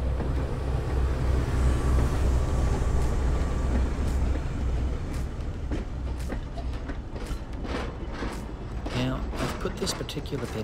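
Broad-gauge Locomotive 801 runs at Jacket's Siding at Australia's National Railway Museum, a loud continuous low rumble with a steady mechanical rattle and a growing series of sharp clanks and clicks.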